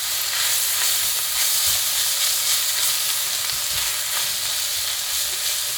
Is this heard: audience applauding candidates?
no